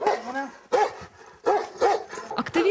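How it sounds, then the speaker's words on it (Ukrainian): A dog barks repeatedly at close range, sharp loud barks in quick bursts with brief pauses between them. "Окрім охоронця, хату стереже пес Цезар."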